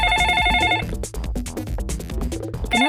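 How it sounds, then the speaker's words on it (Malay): A cartoon telephone rings with an incoming call, a bright electronic ringtone that opens and closes the passage, with busy, loud animated-show music and effects playing throughout. "Kenapa Kim ni telefon?"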